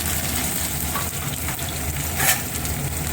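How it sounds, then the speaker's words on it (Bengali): Chopped onions fry in a pan for mutton dak bungalow curry, giving a steady, dense sizzle that fills the whole stretch, with a brief louder crackle near the end and no talking. "তাহলে এই পেঁয়াজটা একটু ভেজে নিই"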